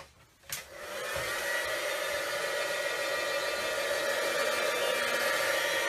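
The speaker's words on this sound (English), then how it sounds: "now we're going to heat this up, and heating it up melts all this powder and makes it all raised and shiny" A heat gun blows a steady, loud rushing hiss as it melts embossing powder on a handmade birthday card, starting after a brief click and holding constant with no voices.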